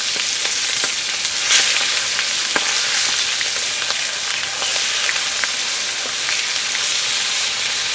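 Hilsa fish pieces sizzle and spatter steadily in hot oil in a pan, a close, continuous crackle with scattered sharp pops throughout and no talking.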